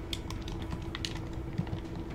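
A computer keyboard is typed on in quick, light, irregular clicks, close and fairly quiet over a steady low hum.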